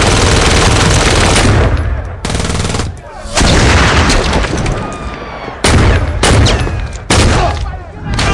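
Gunfire blasts loudly in the Saints Row 2 video game, with dense rapid bursts of shots in several long stretches broken by brief pauses.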